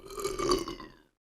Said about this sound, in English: that burp was for you?